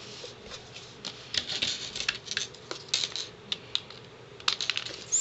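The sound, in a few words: scissors snipping off ribbon ends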